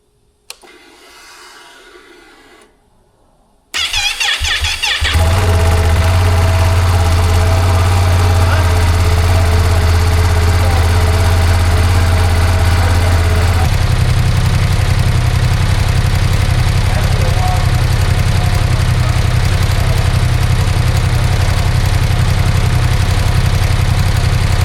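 A 2025 Ducati Panigale V2 fires up after a few seconds of quiet rustling, then settles into a loud, close, lumpy idle with a deep throb, its tone shifting partway through as the revs drop.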